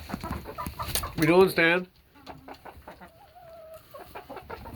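Backyard chickens cluck and call in the evening, a loud burst of clucking up front followed by scattered quieter bird sounds, with a voice speaking briefly.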